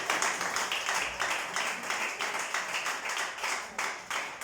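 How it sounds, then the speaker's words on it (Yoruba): An audience at a Yoruba preaching gathering claps for Jesus, a brisk steady patter of many hands close by, continuous and fairly loud with no talking over it. "Pàtẹ́wọ́ fún master. Jésù."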